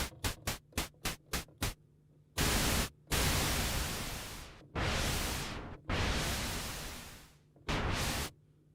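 Noise generator of a Behringer Odyssey analog synthesizer: a series of short rapid hissing bursts, then longer sustained blasts of bright white noise and darker pink noise, switching on and off abruptly, fairly quiet and without speech.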